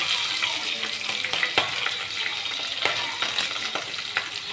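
Cumin, mustard seeds, green chili and ginger sizzle steadily in hot oil for a South Indian venpongal tempering, with light stirring clicks and crackles throughout, close and fairly loud, no talking.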